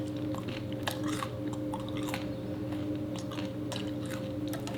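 Someone chews a crispy, very oily baked Doughp cookie dough cookie, made from the Shark Tank brand's dough, with soft crunching and mouth sounds over a steady low hum.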